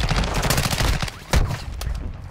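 Rapid bursts of automatic gunfire in Call of Duty Warzone 2, loud and close with repeated sharp cracks in quick succession and a heavier shot partway through.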